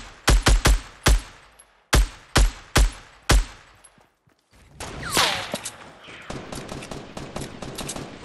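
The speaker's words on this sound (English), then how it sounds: "I'm getting sniped at." Sniper fire in a Fortnite-style shooter game: a quick burst of loud, sharp shots, then more single cracks spaced about a second apart, with scattered game noise afterward.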